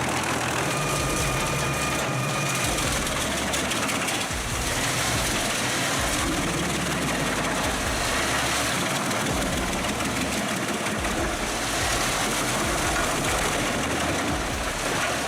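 A large wood chipper with a 1000 mm drum carrying five knives, powered by a 700 HP Volvo engine, runs loud and continuous, a dense roar with rumbling grinding pulses and no talk.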